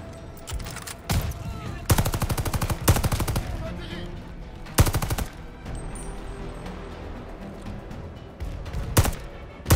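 Wartime gunfire in Call of Duty's Battle of El Alamein mission: repeated loud bursts of automatic weapon fire and sharp single shots, some rapid and overlapping, close and dense, with a faint voice underneath.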